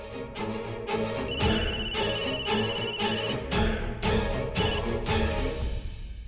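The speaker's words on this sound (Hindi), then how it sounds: "काम्या शनाया भाभी को क्यों कॉल कर रही है?" A telephone rings for an incoming call in a Hindi TV drama, repeated electronic ring bursts over background music and dramatic hits, loud and close, with no speech over it.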